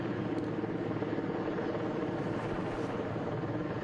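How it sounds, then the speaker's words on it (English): Helicopter that has just installed a large TV antenna in Parma, Ohio, flying away toward a parking lot, giving a steady, moderately distant broadband rotor and engine drone with no talk. "Helicopter now going to make its way back to the parking lot"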